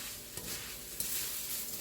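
Sweet potato casserole mixture with butter being mixed in a bowl, a soft continuous wet scraping and stirring with a couple of small knocks, close and fairly quiet.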